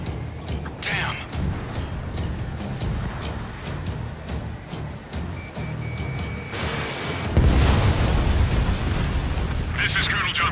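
Missile explosions in the air-combat game Ace Combat 7 rumble through dense battle noise, with a heavier, louder blast arriving late in the clip amid ongoing engine roar and radio-style voices.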